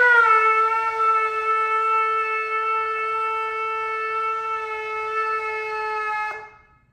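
A ram's-horn shofar sounds one long, steady tekiah blast for about six seconds, loud and close with a bright, buzzy tone, then breaks off with a short upward crack at the end.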